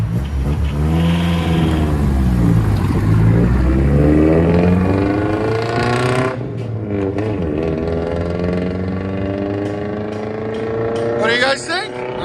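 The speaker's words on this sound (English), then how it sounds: "We're gonna do a drive off real quick." A 1991 Nissan Hardbody five-speed pickup with a Dynomax Race Bullet exhaust pulls away, its loud engine note rising and falling through revs, then dropping off into the distance while a person talks close by.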